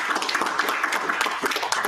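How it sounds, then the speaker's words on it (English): Audience clapping for a panel at a tax transparency discussion event, a brief continuous patter of many hands at moderate level with no talk over it. "have a round of applause for our excellent panel"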